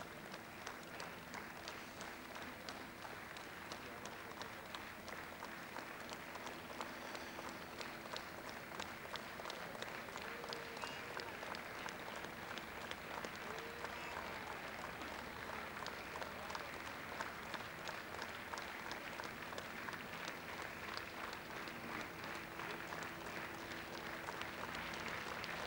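Sustained applause from a large crowd gathered outside Willy Millowitsch's theater at his funeral, dense steady clapping at moderate distance, continuing evenly throughout.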